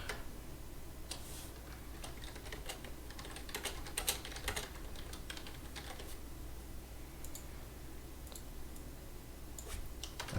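Fingers typing on a keyboard to enter text into a mobile app, with quiet irregular clicks and bursts of keystrokes at close range in a quiet room, with no speech.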